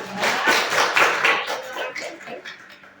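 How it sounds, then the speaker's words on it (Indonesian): A class of vocational high school students claps in a short round of applause that starts strong and fades away within a few seconds. "Tepuk tangan."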